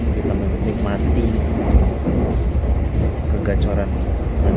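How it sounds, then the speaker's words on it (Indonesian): Inside the Argo Wilis passenger train on the southern line, a constant low rumble and rail noise roll on steadily, with people talking over the ride. "kegacoran kereta Argo Wilis menembus lintas selatan ya"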